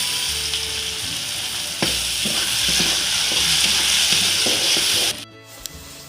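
Ground spice paste for chicken curry fries and is stirred in a pan, making a loud, steady close sizzle with occasional scraping knocks, then dropping off abruptly near the end.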